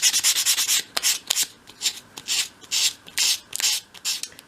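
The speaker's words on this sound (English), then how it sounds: "So just sweep the sandpaper over like that, do that on both sides." Sandpaper is swept by hand over the small corner of a wooden piece for a 1/12 scale miniature shop, giving quick rhythmic scratchy rubbing strokes in short bursts, close and clear with no voices.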